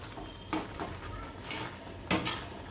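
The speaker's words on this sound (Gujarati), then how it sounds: "આને હલાવશું. અને હલાવ્યા કરવાનું, બેસી ન જાય" Spoon scraping and clinking in a pan while coconut ladoo mixture is stirred at home, with a few sharp metallic knocks standing out over a soft, steady scrape.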